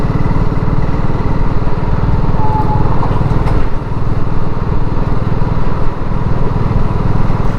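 Motorcycle engine drones loudly and continuously on an evening ride along the A63 through Monk Fryston, a close, rumbling note with slight dips in revs and no voices.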